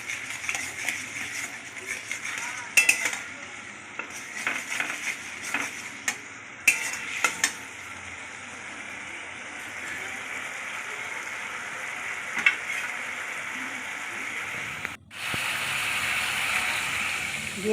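Spice paste stirred and fried in a pan for a yogurt potol kofta curry, a steady sizzle with repeated scraping strokes of the spoon, one brief pause, then the frying resumes louder and continuous.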